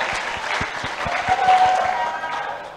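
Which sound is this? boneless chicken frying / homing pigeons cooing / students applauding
students applauding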